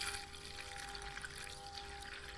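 Water poured into a beaker, about a kilogram of it, while mixing a homemade hand wash: a steady, fairly quiet broadband pouring rush that runs unbroken for about two seconds, with no talk.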